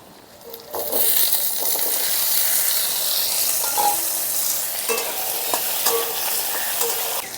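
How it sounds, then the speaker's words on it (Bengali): Cut potatoes fry in hot oil in a wok with bay leaves, dried chillies, five-spice seeds and green chillies, giving a steady close sizzle that swells after the first second, with occasional stirring scrapes and clicks. "এখন কেটে রাখা আলুগুলো দিয়ে একটু ভাজা ভাজা করে নেব।"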